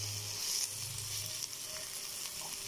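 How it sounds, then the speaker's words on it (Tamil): Browned onions and spices sauté in a pan for a tomato gravy, a soft, continuous sizzle heard close but quietly, with no voices. "நல்லா வதங்குற அளவுக்கு வதக்கிடுவாங்க"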